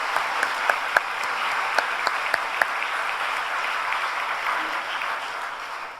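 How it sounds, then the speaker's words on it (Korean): A church congregation at a Friday overnight worship service applauds vigorously, a dense, sustained clapping with a few sharper individual claps standing out early on. "우리 서로를 위해서 힘차게 한번 박수 한번 해보시겠습니다"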